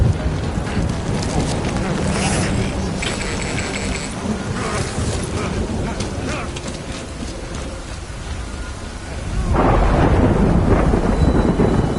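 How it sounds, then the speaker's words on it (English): Heavy rain and rolling thunder in Death Stranding form a dense, continuous wash with deep rumbles and wind noise, swelling louder near the end. "Good thing it was raining."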